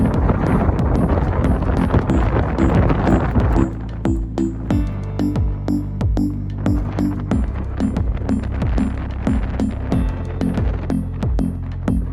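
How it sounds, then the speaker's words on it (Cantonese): Strong wind at The Neck on Bruny Island, Tasmania, batters the microphone, with a constant deep rumble and repeated gusty thumps. "呢度係超級大風。"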